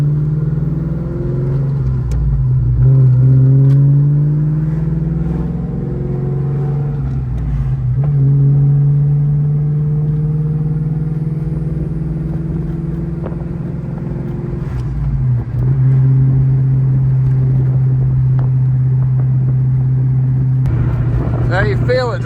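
A Ford SVT Cobra nicknamed the Terminator drives close by with a deep, steady engine drone whose pitch rises and falls through gear changes, and people talk over the sound inside the car.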